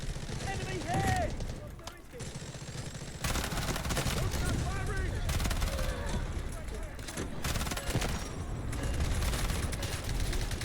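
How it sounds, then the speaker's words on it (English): A fully upgraded Vector submachine gun firing in Delta Force, with long rapid bursts of automatic fire and bursts from other guns in a loud ongoing battle, voices calling out now and then. "So here it is, the Vector submachine gun."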